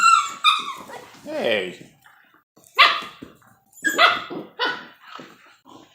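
Whippets barking, yipping and whimpering while playing, in short sharp bursts close by, mixed with a person's voice talking over them.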